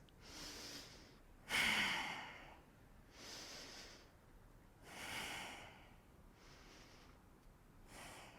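Slow, deep breaths during a held yoga crow pose: close nasal inhales and exhales in a loose rhythm, one stronger huffing exhale near the start, then softer breaths, with no talking.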